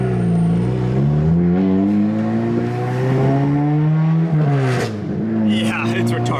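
A Toyota Celica with a very loud straight-pipe exhaust drives along, its engine droning with a brassy, trumpet-like tone that rises and falls. The exhaust stays loud and close throughout, and voices are faintly audible underneath.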